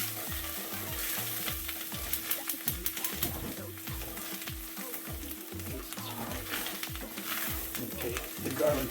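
Garlic frying in a skillet over turned-down heat, a steady close sizzle with rapid rhythmic clicking and stirring taps running throughout.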